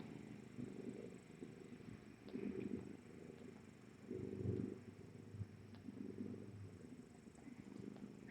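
A mother rescue cat lying close by purrs in slow, low rumbling waves, quiet and steady with faint background noise.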